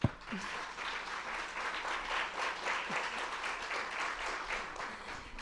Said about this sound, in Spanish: gracias por el aplauso antes de haber hablado